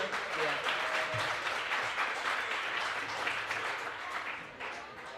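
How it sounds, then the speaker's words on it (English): A crowd at a ninja obstacle course competition at a trampoline and parkour gym applauds the kids competitors, in a continuous wash of clapping heard at a distance with faint voices underneath. "let's give a big round of applause for our kids competitors"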